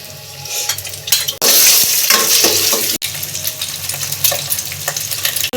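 Ginger garlic paste frying in oil for egg parotta: a loud burst of sizzle as it hits the pan, then steady crackling with stirring and a few utensil clinks, close up.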